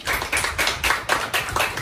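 Steady rhythmic hand clapping in time with a song at a street performance, loud and near, about three claps per second.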